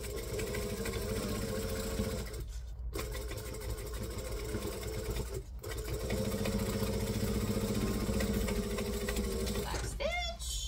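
Sewing machine stitching a seam on a craft tote bag, a continuous close mechanical whir with two brief pauses and a short stop near the end.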